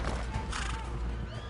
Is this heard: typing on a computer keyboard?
no